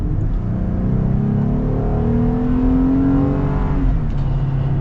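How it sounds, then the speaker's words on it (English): An AEV Jeep Gladiator Rubicon JT370 pulls hard at full throttle, its engine note rising steadily through the revs before a shift near the end, loud and close from inside the cab with no talking. "And let's get our full-blown acceleration here."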